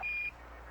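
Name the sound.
Apollo 11 lunar module program alarm tone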